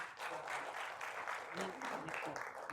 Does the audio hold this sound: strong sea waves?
no